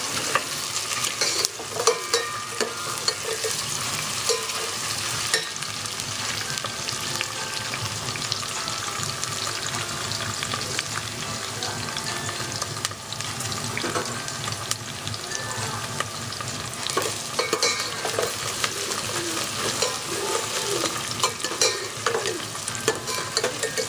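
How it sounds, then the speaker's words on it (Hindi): Ridge gourd fries in a pan with a continuous loud sizzle and crackle while a spoon keeps stirring, adding frequent scrapes and knocks against the pan throughout. "हल्के हल्के इसमें हम चम्मच चलाते रहेंगे ताकि ये बिल्कुल सेम हर तरफ से ब्राउन हो जाए।"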